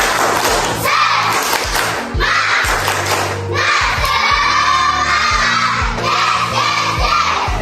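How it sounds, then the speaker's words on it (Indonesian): A classroom of children loudly clap and shout in a rhythmic chant, steady beats of clapping under energetic group voices, close and continuous. "Tepuk semangat."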